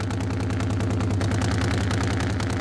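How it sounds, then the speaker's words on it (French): A dragster engine fired up by a mechanic runs in a loud, steady low rumble with rapid pulsing throughout, close and continuous with no voices. "le mécanicien démarre le moteur du dragster"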